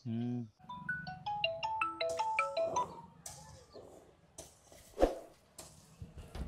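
A mobile phone ringtone plays a rising, melodic sequence of electronic tones, fairly close and clear, followed by rustling and a sharp knock.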